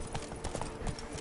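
A brief burst of horse hoofbeats gallops in a PS4 video game, a few quick thuds heard close and alone.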